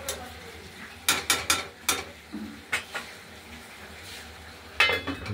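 A pot of cabbage curry with potato and tomato is stirred, giving a series of sharp metallic clinks and scrapes of a spoon against the pan in quick clusters, then a final clatter as the lid goes on, over a faint background hum.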